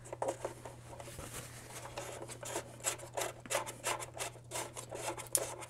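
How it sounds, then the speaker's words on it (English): A cable connector on a Torqeedo Ultralight E 30 electric outboard motor is repeatedly plugged into and pulled out of its battery socket, giving close, scratchy rubbing and clicking bursts in an uneven series with no talk. "connect and disconnect it a few times at the battery"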